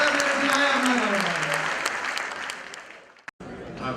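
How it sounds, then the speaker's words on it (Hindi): Audience applause at a poetry recital, a full burst of many hands clapping that thins out and stops abruptly near the end, with a voice briefly audible under it. "तालियां भरपूर आई"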